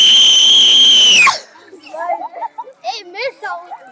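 A child gives one loud, sustained high-pitched shout lasting over a second. Quieter speech follows right after.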